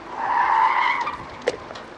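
BMW Z3 tires squeal in a sustained high skid during a 69 km/h handling test pass with sport suspension, loud at first and then easing, with a brief sharp chirp near the end over faint road noise.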